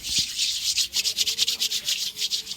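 Hands rubbing oil over a surface in quick repeated strokes, a close, loud, rhythmic swishing friction with about a dozen even rubs in a row.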